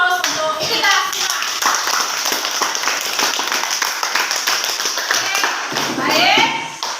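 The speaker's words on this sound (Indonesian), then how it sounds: "Mari kita berikan aplaus untuk kita semua." A classroom of students claps together in a brief burst of applause, loud and close, with children's voices mixed in and a teacher speaking around it.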